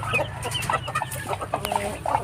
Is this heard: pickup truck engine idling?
no